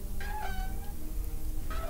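A cat in the video game Deponia Doomsday gives a couple of short, close meows, a wavering cry near the start and another brief call at the end, over a low background hum.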